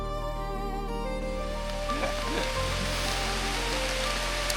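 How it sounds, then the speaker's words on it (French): Steady rain falls in the Amazon rainforest, a dense continuous wash of hiss close around, with a low tonal hum beneath that drops partway through and no voices. "Bon bah la pluie elle tombe."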